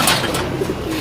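Pigeons coo at a pigeon race release in Tarlac, a soft continuous murmur of cooing that runs steadily through the short moment with no talking.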